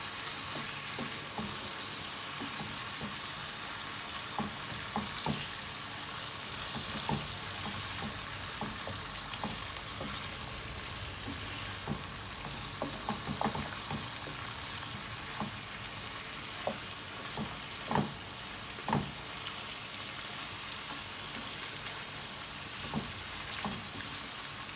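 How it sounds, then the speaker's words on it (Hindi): Spices sizzling and frying steadily in a pan while cooking chicken karahi, a continuous close crackle with small pops scattered throughout and no talking. "दो से 3 मिनट मैं इसमें मसालों को भूनूंगी।"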